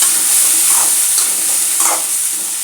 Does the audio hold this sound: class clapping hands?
no